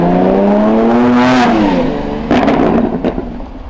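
A loud, close naturally aspirated V12 engine of a Lamborghini Countach supercar revs up sharply in one long rising howl, then drops back with crackling bursts.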